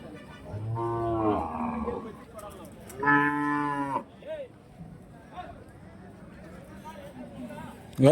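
Calves around seven months old moo loudly twice at a livestock market in Kundarapalli, Krishnagiri, long drawn-out calls close by, followed by quieter crowd chatter and distant activity.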